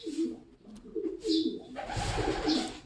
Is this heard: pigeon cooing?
yes